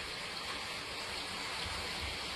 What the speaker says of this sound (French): C'est juste le bruit de la cascade.